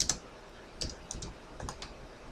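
Keystrokes on a computer keyboard while entering an Angular CLI version command, a handful of brief clicks in short bursts, fairly close and quiet over a low room hiss.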